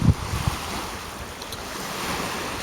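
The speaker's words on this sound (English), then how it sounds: "I'm gonna have to go against this wind the entire 3 miles back." Wind and choppy waves on an open bay blow in a steady, broad rushing wash with gusty buffeting against the microphone, a few louder low thumps at the start, and no talking.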